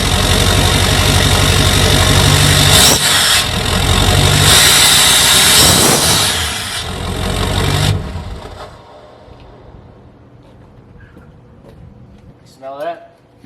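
A 2015 Ford F250 with the 6.7L Powerstroke diesel, DPF deleted and fitted with a 5-inch exhaust, rumbles loudly up close with a rev, then shuts off, leaving quiet with people talking under and after.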